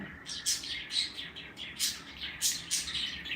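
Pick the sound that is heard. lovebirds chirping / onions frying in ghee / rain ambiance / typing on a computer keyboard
lovebirds chirping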